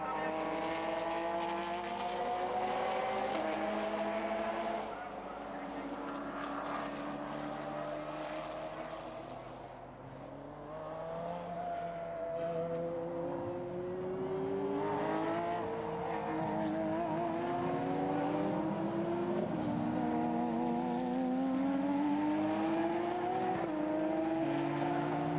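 Porsche and other GT race cars at Zolder circuit in Belgian GT racing roar past one after another, their engine notes rising and falling in long sweeping pitches, loud and continuous, with a commentator talking over them.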